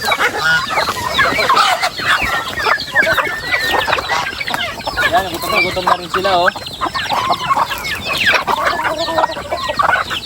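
Chickens cluck and chatter busily close by, a steady flock noise throughout, with a person speaking briefly over them.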